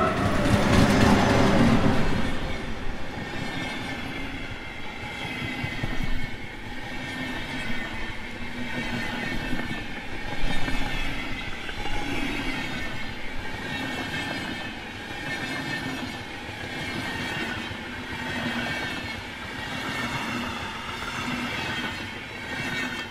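A Danish EA electric locomotive hauls a train past, a loud passing rumble at the start easing into steady rolling wheel noise with rhythmic rail clicks and faint squeals, no talk.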